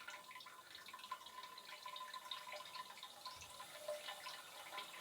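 Cold water sprays steadily from a newly installed bidet, a continuous faint hiss with small dripping and splashing details throughout, no voices.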